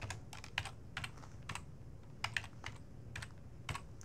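Irregular clicks of typing on a computer keyboard, a handful of separate keystrokes scattered over a few seconds, close and fairly quiet with no talking.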